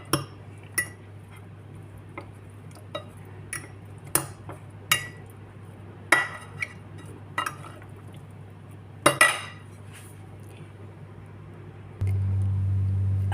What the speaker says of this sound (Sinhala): දැන් අපි හොඳට කලවම් කරගමු.